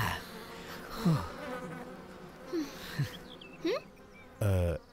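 Bees buzzing around people in a film scene, with several swelling and fading buzzy drones that pass close by in short bursts, and a louder swoop near the end over a quiet background.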